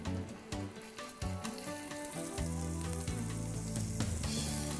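Chopped, crushed garlic with a pinch of salt sizzles in extra virgin olive oil in a pan, a loud, steady frying hiss with occasional stirring.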